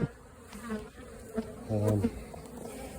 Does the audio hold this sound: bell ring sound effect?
no